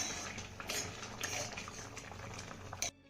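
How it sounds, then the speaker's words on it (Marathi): Papad curry in a pot with the lid just removed, stirred from the bottom; soft bubbling simmer with faint utensil scrapes and light clinks, fairly quiet, ending abruptly. "त्यानंतर ही भाजी एकदा तळापासून चांगली हलवून घेऊया"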